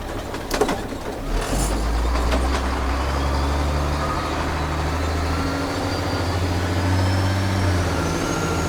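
A 2001 Freightliner FL70 single-axle day cab with a CAT engine and automatic transmission drives along, a low, rumbling diesel drone heard from inside, with a few clunks at the start and a steady engine note throughout.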